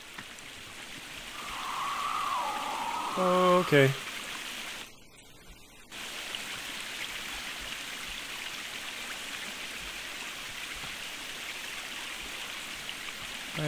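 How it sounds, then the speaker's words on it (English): Small babbling brook in the video game The Forest, a steady soft rush of flowing water that continues throughout, with a brief pause in the middle and a short spoken word from a man over it. "a little babbling brook here."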